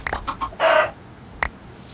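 Chickens in a Skywars sky-island video game give a few short clucking calls, with a louder burst in the middle and another brief call near the end, fairly close over quiet background.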